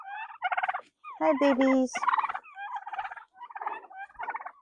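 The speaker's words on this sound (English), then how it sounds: "I got all my turkeys." Farm turkeys gobble in rapid, rattling bursts close by, several birds calling over one another in choppy repeated volleys, with a person's voice briefly heard among them.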